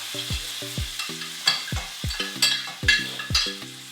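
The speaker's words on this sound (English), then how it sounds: "I'm going to go ahead now and add in the prawns." Prawns sizzling in a frying pan with onions, garlic and chillies for a creamy Cajun pasta, close and fairly loud, with quick repeated clinks and scrapes from stirring over the hiss, and nobody speaking.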